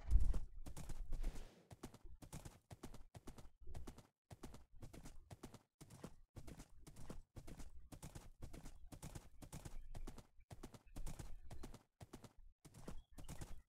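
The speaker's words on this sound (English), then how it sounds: "Horse." Horse hooves clip-clop steadily in the video game Dungeon Realms, a long run of close, crisp, evenly spaced footfalls with no talking.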